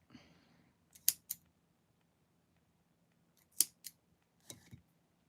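Scissors snip through yarn at a crochet session, a few sharp close clicks in pairs separated by quiet pauses.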